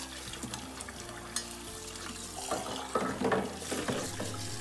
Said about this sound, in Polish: Najpierw myjemy wszystkie akcesoria w letniej wodzie z odrobiną płynu do mycia